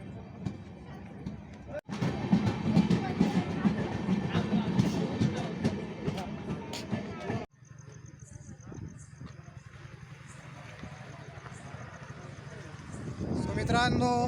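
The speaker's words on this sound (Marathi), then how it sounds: "सो आता ही ट्रेन चालली आहे डायरेक्ट छत्रपती शाहू महाराज टर्मिनस कोल्हापूरला." A passenger train departs Jejuri railway station bound for Kolhapur's Chhatrapati Shahu Maharaj Terminus, a loud, steady rumble of rolling carriages near at hand, easing off midway and then building again, with talk over part of it.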